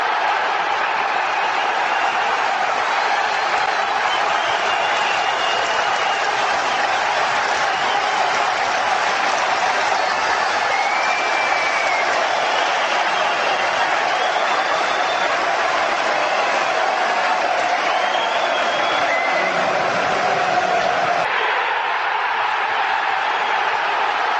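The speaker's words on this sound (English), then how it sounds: "I think I had that crowd noise on repeat" Looped crowd noise sound effect, a continuous dense roar of many voices and clapping held at an even, loud level for the whole stretch, cutting thinner just near the end.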